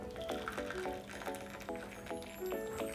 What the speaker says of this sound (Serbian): Prelit ću kesicu vrelom vodom